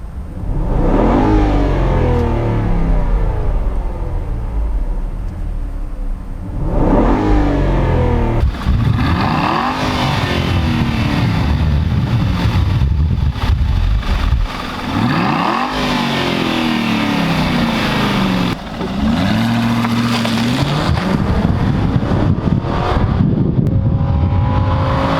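An Aston Martin V8 Vantage engine with stock exhaust revs repeatedly, climbing and dropping in pitch with a deep, steady exhaust rumble, loud and close throughout.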